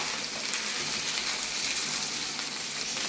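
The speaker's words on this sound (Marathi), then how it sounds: "आलं लसूण पेस्ट ओलं असल्यामुळे थोडंसं ते उडतं" Wet ginger-garlic paste spluttering in hot oil in a pan, a steady, dense, close crackling sizzle that continues evenly throughout with no talking.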